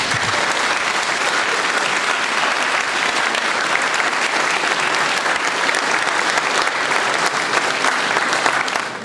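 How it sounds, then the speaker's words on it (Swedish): Warm, sustained applause from an audience at an art exhibition opening on Swedish pop music, a dense steady roar of clapping that fills the whole stretch and fades slightly at the very end. "jag tycker bara vi ger dem en väldigt varm applåd"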